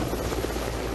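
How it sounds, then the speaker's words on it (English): Military helicopter near a strategic bridge crossing in Ukraine, a loud continuous rotor and engine roar filling the air without pause. "Helicopters deploy troops onto this strategic crossing, 6 miles from Sloviansk."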